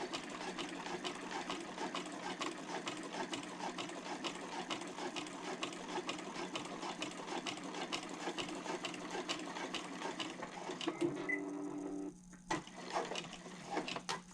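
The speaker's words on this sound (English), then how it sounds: "Right now I'm using a walking foot, which really helps with these thick layers" Domestic sewing machine fitted with a walking foot stitching through thick layers of vinyl for a handbag exterior, a steady fast rhythmic chatter running continuously and fairly close, stopping briefly near the end before a few more stitches.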